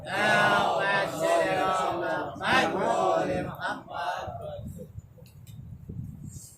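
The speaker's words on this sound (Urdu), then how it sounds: "باز بلند نعرے صلوات" A gathered crowd at a religious majlis gathering loudly chants a salawat blessing in unison, a dense, close swell of voices that fades out into a quiet room.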